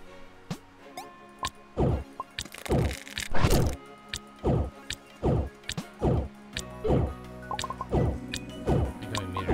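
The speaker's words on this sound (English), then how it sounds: "Becoming meteor shower, get out of there." Repeated heavy impacts of a meteor shower in the video game Roguelands, about a dozen loud crashing thuds with splashy, wet-sounding bursts landing at a steady, uneven rhythm, each near and prominent with no talking.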